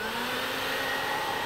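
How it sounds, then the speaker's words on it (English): A cartoon vacuum cleaner switched on and running, a loud, steady motor whine with a constant droning hum, alone. "It's a vacuum cleaner, Iver."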